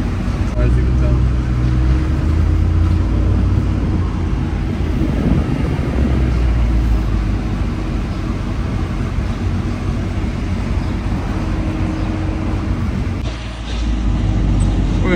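A 2023 Ram TRX pickup truck pulling out and driving, a steady loud low engine drone and road rumble heard from inside the cab, with someone talking over it throughout.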